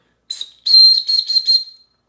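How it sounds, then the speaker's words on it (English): A shrill Bear Grylls survival kit whistle on a paracord lanyard blown close by: one short blast, a pause, then a longer blast that breaks into several quick pulses before fading. "Oh, and on here we have a whistle."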